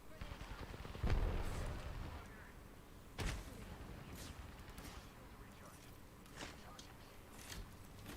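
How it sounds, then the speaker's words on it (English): Gunfire and a grenade blast in a sci-fi shooter video game: scattered sharp shots with one heavier burst early and another strike a couple of seconds later, set over a steady game soundscape with talk throughout. "Grenade out."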